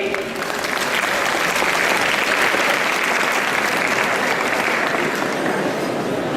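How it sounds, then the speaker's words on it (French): Steady, full applause from a convention audience cheering a cosplayer during the Japanantes 2012 cosplay parade, a thick continuous roar of many hands that stays level throughout. "On peut encore l'applaudir."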